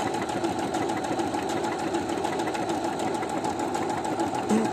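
A new domestic sewing machine stitches a blanket stitch, giving a continuous rapid mechanical whirr and clatter heard up close, steady throughout with no voices.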